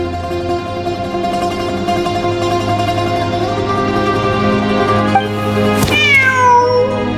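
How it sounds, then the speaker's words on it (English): Cat meowing in the video game Genshin Impact, inside a desert ruin, a drawn-out meow that rises and bends over a steady droning game soundtrack. "Layla and Jur both heard the sound of a cat while escaping the ruin"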